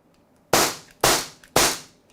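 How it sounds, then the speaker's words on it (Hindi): An Umarex Beretta M84FS BB pistol fires three sharp, loud, close shots at roughly half-second intervals, each one a crisp crack with a short decaying tail, with no voices. "तो आपने देखा किस प्रकार से इसने फायरिंग किया है"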